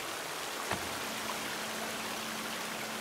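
A stream flows in the survival video game The Forest, a steady broadband wash of running water with a faint hum beneath it and one brief soft knock, with no one talking.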